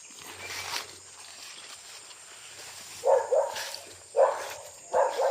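A dog barks three times in short bursts, moderately close, over a quiet outdoor background with a faint low hum.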